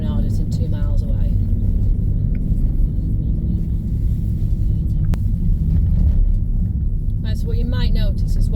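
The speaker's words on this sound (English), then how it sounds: "the amount of cars just pulled up" Cars idle and rumble on the Colwyn Bay promenade near the town centre, a steady low engine drone with people talking over it at times.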